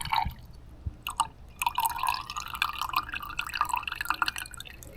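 Water dripping and trickling off rhubarb pieces that have soaked for two days as the liquid is drained, giving close, irregular drips and small splashes with a continuous light trickle throughout.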